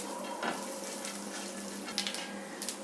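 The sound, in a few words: chana dal sautéing in a pan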